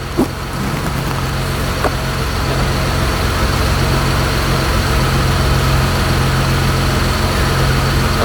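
A Mitsubishi Eclipse engine idles at about 1,000 rpm just after a timing belt job, a loud, steady, close drone with a constant low hum and no talk, the only sound throughout.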